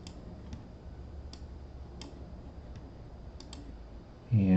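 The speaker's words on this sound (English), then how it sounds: "I'm going to right click on the header files, and I'm going to do add a new item." Soft computer mouse clicks while working in Visual Studio, a handful of faint, sparse taps spread over a quiet room hum, ending in a sudden louder burst.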